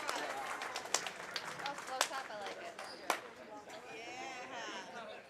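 An audience at a youth bowling tournament gives a quick round of applause, a wash of scattered claps with a few sharp louder claps, while voices talk over and after it.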